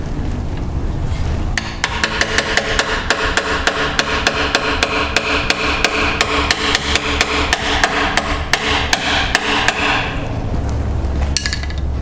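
Hammer striking the oil pan of a Ford 429/460 engine from a 1958 Ford Fairlane to pop the gasket loose, a long run of sharp metallic blows in steady rhythm, loud and close, with no talk.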